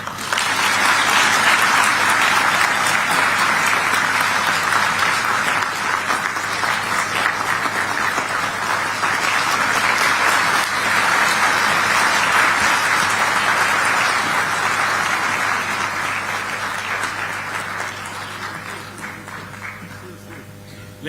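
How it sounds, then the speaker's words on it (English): Sustained audience applause in a large hall at an event in Addis Ababa launching an African Union Commission bid, steady and dense for about seventeen seconds before thinning out. "let's continue to applaud"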